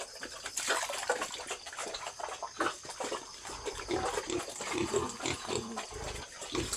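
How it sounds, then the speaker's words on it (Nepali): Two pigs in a village pen in rural Nepal grunt and snuffle close by, short irregular low grunts mixed with sloshing water and faint birds in the background. "यहाँनिर चाहिँ छ यो मेरो दुईटा सुँगुर।"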